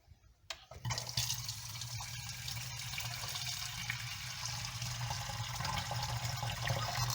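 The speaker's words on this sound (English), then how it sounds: "Let's pour some water." Water streams steadily into a stainless steel pot after a brief clatter, a continuous splashing rush that holds for several seconds.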